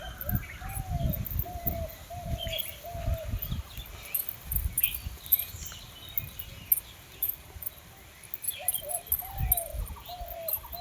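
Pigeons in a loft where birds sit on eggs coo in soft repeated phrases over a busy background of low thumps and rustles, with insect-like chirring high above.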